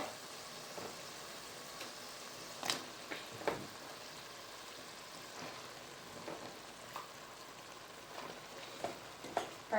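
Ridge gourd going into a hot pan of spice paste, giving a faint, steady sizzle with scattered soft clicks and stirring scrapes, nobody talking.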